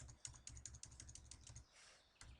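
Keys on a computer keyboard tapped in a quick, fairly even run of clicks with a short pause near the end, heard close and alone without any talk.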